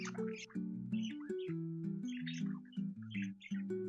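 Pet budgies chirp and tweet close by indoors in quick, overlapping bursts of bright warbling calls, steady and lively with no voices.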